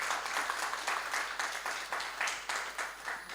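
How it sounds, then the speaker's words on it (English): Conference attendees at a women in financial markets event clap in a steady, rhythmic round of applause, the hands beating in regular pulses from a moderate distance, fairly quiet and unbroken by talk. "another round of applause for her presentation"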